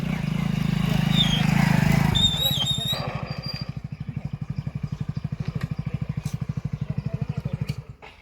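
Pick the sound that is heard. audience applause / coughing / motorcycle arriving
motorcycle arriving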